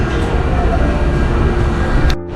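A small train runs steadily, a loud continuous rumble with rail noise close by, then cuts off abruptly near the end.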